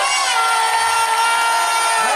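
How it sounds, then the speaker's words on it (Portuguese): Crowd cheering and applauding after a Brazilian rap battle at the Batalha da Aldeia, a steady dense roar of voices and claps for about two seconds with no clear speech. "uma salva de palmas pra essa batalha mais uma vez aí"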